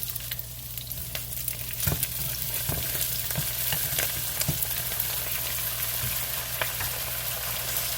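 Brussels sprouts dropped into a hot pan, frying with a continuous low sizzle and scattered sharp clicks and taps from pieces landing and shifting.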